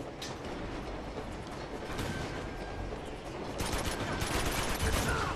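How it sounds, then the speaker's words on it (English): Rapid bursts of gunfire in Uncharted 2 Among Thieves Remastered, a dense, steady barrage of shots that grows louder and busier in the last couple of seconds, with no talk over it. "Who the fuck's shooting at me?"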